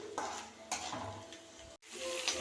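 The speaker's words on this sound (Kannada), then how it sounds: "ಇವಾಗ ನೋಡಿ ಈರುಳ್ಳಿ ಹಾಕಿದ್ದೀನಿ ಚೆನ್ನಾಗಿ ಮಿಕ್ಸ್ ಮಾಡಿ ಬ್ರೌನ್ ಕಲರ್ ಬರೋವರೆಗೂ ಹುರಿಬೇಕು" Chopped onions frying and being stirred in a pan until browned: a soft steady sizzle with occasional scraping strokes of a spoon and light utensil clinks, briefly cut off near the end.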